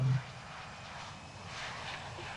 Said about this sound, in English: Here's an Airbus A380.